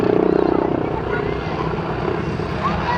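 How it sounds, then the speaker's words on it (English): Red Bull aerobatic helicopter maneuvering at an air show, pointing its nose straight down, gives a loud, steady rotor drone with rhythmic blade chop at the start, heard alone and continuous throughout. "as he points the nose of the helicopter straight down at the ground."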